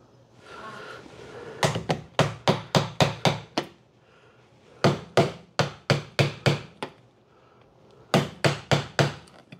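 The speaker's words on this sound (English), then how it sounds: "It's a carving hammer." A carving hammer strikes wood in quick bursts of sharp knocks, five or six blows at a time, with short pauses between the runs.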